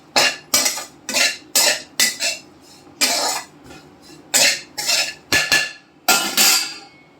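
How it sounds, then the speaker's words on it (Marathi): Roasted grated coconut, browned for rava laddu, is stirred in a pan after the gas is turned off, giving a loud series of rhythmic scraping and clattering strokes with short pauses between them. "हे छान एकदा असं हलवून घ्यायचं"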